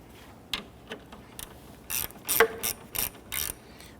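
Ratchet wrench snugging down horn mounting bolts on a 1992-1996 Toyota Camry, a series of quick, sharp clicking bursts close by, getting busier toward the end.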